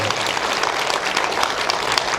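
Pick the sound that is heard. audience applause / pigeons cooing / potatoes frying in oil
audience applause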